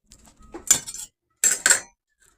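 Metal utensils scraping and clinking against an oiled baking pan while a vegan meatloaf is pried loose, two close bursts of rattling cutlery-on-pan noise separated by a pause.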